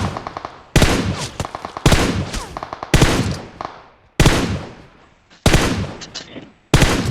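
Gunfire in a battle royale video game: six loud, sharp bursts at roughly one-second intervals, each a crack followed by a decaying tail, with quiet gaps between them.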